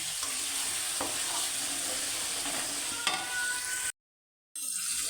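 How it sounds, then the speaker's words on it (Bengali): Fish frying in a pan gives a steady, dense sizzle throughout, with a couple of faint clicks and a brief drop to silence near the end before the sizzle resumes. "এখন এই সাইডে মাছগুলো ভেজে নিতেছি"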